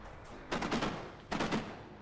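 P90 submachine gun fire in the shooter game Kane and Lynch: Dead Men: two short automatic bursts, each about half a second, loud and sharp against a quiet background.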